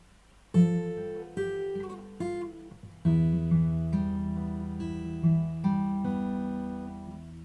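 Fingerstyle acoustic guitar plays the first three measures of a song from Final Fantasy X, with slow plucked melody notes ringing over sustained low chords, clear and solo.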